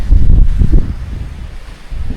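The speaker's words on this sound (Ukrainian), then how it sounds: "вітер роздуває ще більше" Strong wind gusts buffeting the microphone, a heavy low rumble that swells and eases over a couple of seconds, with no voices.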